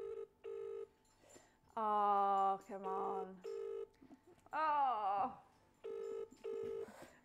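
A telephone call rings out unanswered during a live prize draw, with repeated paired ring bursts between which people react with groans and short exclamations.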